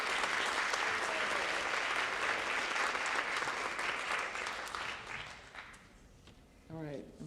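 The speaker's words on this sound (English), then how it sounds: "I think we need to applaud both teams for a great first round." A quiz competition audience at the 2013 OBOB state finals applauds both teams with dense, loud clapping that holds steady for about five seconds, then thins and fades as a voice begins speaking near the end.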